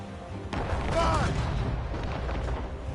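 Ship cannons fire during a naval battle in the video game Assassin's Creed Rogue, heard as heavy booming blasts over a dense, rumbling background of sea and battle noise.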